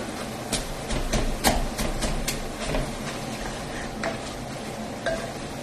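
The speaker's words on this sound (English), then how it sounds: "throw it in my manual food processor, and we'll do the same thing that we did for the onion" A hand-pulled manual food processor chops bell pepper tops, its blades whirring in short bursts with rattly clicks and plastic clatter, fairly close and continuous with no talk.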